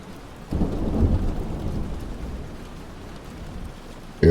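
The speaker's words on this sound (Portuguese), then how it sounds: "Está chovendo muito" Heavy rain pours steadily with a deep rumble of thunder rolling in and slowly fading, the downpour continuing alone and fairly loud throughout.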